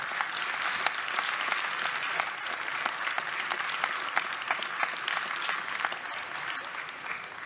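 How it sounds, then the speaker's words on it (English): A crowd applauds at the Baselworld 2019 closing press conference, with sharp individual claps popping out of a steady wash of clapping that gradually thins toward the end. "I have to applaud you, because you are Baselworld, we are Baselworld."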